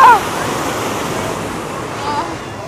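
Continuous loud rush of sea surf on a beach in Acapulco, a broad steady wash of breaking waves close by, with a brief high squeal at the very start.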